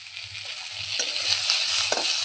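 Onion and tomato fry in a pan with a constant bright sizzle, broken by two or three sharp scraping stirs and a soft low rumble underneath, heard up close without talk.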